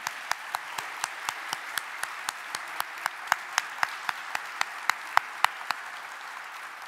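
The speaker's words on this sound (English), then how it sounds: "Applause, please," Applause at an opening civil rights event, heard as a thin scatter of distinct, evenly spaced claps, roughly one every quarter second, fairly near and alone, with no dense crowd roar.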